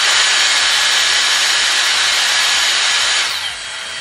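A Dyson Airstrait hair dryer blows a loud, steady stream of broadband air up close, easing off slightly near the end, with no talking.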